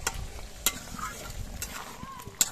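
Egg curry gravy simmers and reduces in a pan, giving a soft, steady sizzle with a few sharp scraping clicks of stirring, close and fairly quiet, with no talking.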